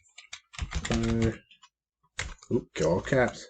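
A computer keyboard clicks with short bursts of typing, mostly under a person talking.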